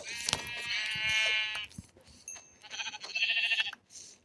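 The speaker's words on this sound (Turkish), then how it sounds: "Koyunlar." Sheep in a blocky survival video game bleat twice, a nearby drawn-out bleat followed by a second, with electronic game sound effects between them.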